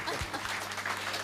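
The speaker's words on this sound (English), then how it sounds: "A big round of applause," A lecture audience claps together in a brief burst of applause, a dense patter of hands heard from within the room with some voices mixed in.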